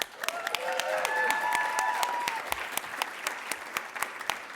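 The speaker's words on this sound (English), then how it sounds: "the applause is awesome" At a climate policy summit plenary, the audience applauds warmly for state legislators, a steady wash of clapping with a few distinct sharp claps standing out, moderately loud and fading slightly toward the end.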